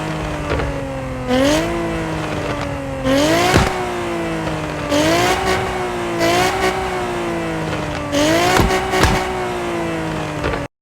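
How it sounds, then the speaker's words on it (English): A Toyota Supra fitted with a V6 engine in Car Parking Multiplayer revs in repeated loud rising and falling surges, with sharp crackles at the peaks and a steady idle drone between them. "V6."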